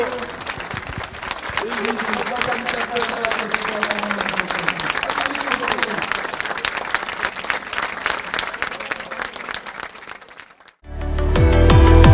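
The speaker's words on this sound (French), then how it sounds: "1 minute d'applaudissements en sa mémoire pour Jean-Marie Bruno" Sustained applause from a large crowd at a road-running event, a minute of dense, steady clapping filling the space, ending abruptly into a different loud sound.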